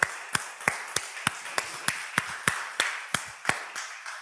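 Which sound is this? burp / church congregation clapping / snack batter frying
church congregation clapping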